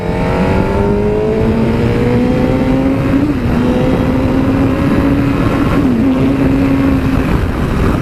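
A 2017 Suzuki GSX-R1000 sport bike's engine roars loud and steady while ridden, its pitch climbing through gears with brief dips at shifts, under heavy wind rush.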